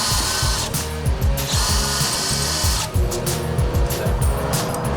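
A power drill bores through metal mounting plates on a boat, a loud, continuous grinding whir with rhythmic stuttering pulses and no pauses, close up and drowning out everything else.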